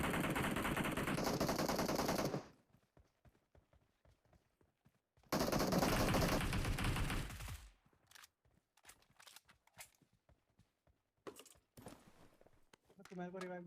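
A UMP submachine gun in PUBG Mobile fires two long, loud sustained bursts, followed by scattered single shots and scuffling game sounds, with some voice chat in places.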